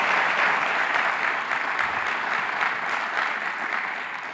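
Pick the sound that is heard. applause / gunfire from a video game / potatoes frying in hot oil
applause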